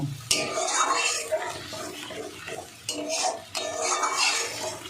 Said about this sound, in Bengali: দুধটা দিয়ে ভালো করে মিশিয়ে দেব।